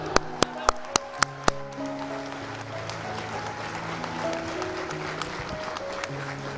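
An indoor audience applauds steadily after a speaker's urging, a few sharp, separate claps rising into continuous clapping that carries on to the end.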